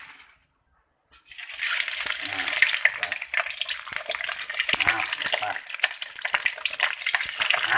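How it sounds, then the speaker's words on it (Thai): Mackerel frying in a pan of oil, a loud, dense crackling sizzle that starts abruptly after a short silence and continues steadily with spitting pops, close up, with a voice faintly present. "เมนูต่อไปครับทอดปลาทูครับผมทอดปลาทูครับ"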